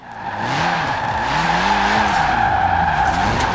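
A 1991 Peugeot 205 Rallye on skinny tires slides in a racing game, the tires squealing loudly and continuously with a wavering pitch over engine drone.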